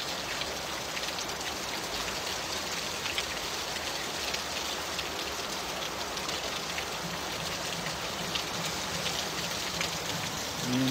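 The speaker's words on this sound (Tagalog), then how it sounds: "Ang lakas ang ulan." Heavy rain pours steadily and loudly, a dense, continuous wash of drops on surfaces with no voices over it.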